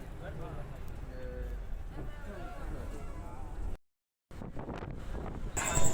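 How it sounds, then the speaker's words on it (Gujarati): Strong wind roars and buffets the microphone on a road during a bus trip. The rumble is steady and loud, cuts out for a moment, then gusts back harder. "રસ્તામાં બહુ વધારે પવન છે અને વાવાઝોડું જેવું દેખાય।"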